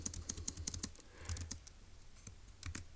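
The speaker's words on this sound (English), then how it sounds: "let's go ahead and type that up in our notes in section A" Rapid keystrokes on a computer keyboard, close and fairly quiet, typed in quick bursts with short pauses between, no voices over them.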